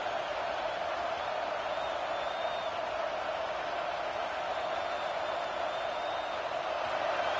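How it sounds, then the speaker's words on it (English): Home crowd at a college football game, a steady roaring wash of fans filling the stadium without pause, loud and unbroken throughout. "Here comes this home crowd as the defense tries to get off the field on 3rd down."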